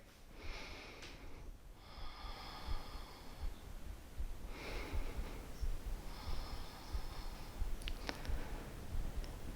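Slow, deep breaths during a beginner yoga mountain pose, faint and close, with several drawn-out airy inhales and exhales separated by quiet pauses.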